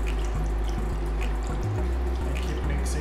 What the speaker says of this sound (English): And then I'm going to add 1 cup of water.